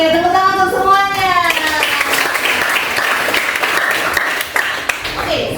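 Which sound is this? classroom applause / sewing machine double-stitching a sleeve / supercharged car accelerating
classroom applause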